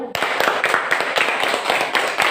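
A classroom of pupils claps for a winning group, a dense burst of many hands with irregular sharp peaks, close and steady for a couple of seconds with no talking.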